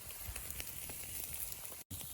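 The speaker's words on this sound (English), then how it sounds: "Hear that sizzle?" A short burst of dense, hissing sizzle of meat searing on a hot grill at a winter campsite in Manistee National Forest, heard close with a brief dropout near the end.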